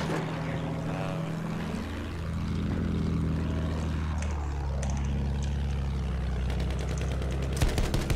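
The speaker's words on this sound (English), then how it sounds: "that's bad if the attack plane attacks us now" An attack plane in the video game Battlefield 1 passes overhead, its propeller engine droning and sweeping up and down in pitch as it makes passes, over a steady low rumble of battle with a burst of sharp gunfire near the end.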